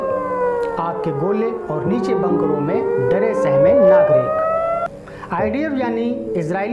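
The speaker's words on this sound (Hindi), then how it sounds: "तेल अवीव की सड़कों पर सायरनों की आवाज गूंज रही थी।" Rising and falling air raid sirens wail steadily through the whole stretch over the streets of Tel Aviv during an Iranian missile attack, loud and sustained, with a voice speaking over them.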